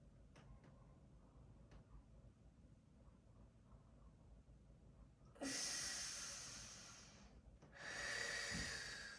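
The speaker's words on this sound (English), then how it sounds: "Hypopressive breath." Hypopressive breathing during an exercise routine: a quiet stretch, then two long, airy, close breaths hiss loudly, the first fading slowly and the second following after a brief pause.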